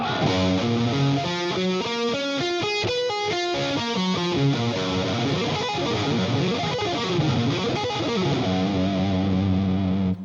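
A heavily distorted electric guitar plays rapid sweep-picked arpeggios, with loud, continuous cascading note runs moving up and down across the strings and no talking.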